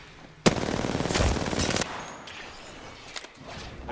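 Enemy gunfire in the Apex Legends battle royale game: a sudden burst of rapid automatic shots opens loudly, rattles for over a second, then tapers into scattered fainter pops and background game noise.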